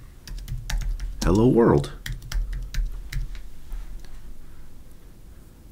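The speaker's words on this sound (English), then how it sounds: "So the payload, let's just type in" Keys on a computer keyboard tapped in a short burst of typing while setting up a Raspberry Pi, with a person talking over the clicks.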